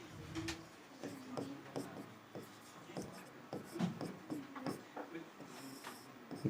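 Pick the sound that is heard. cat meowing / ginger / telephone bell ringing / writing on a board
writing on a board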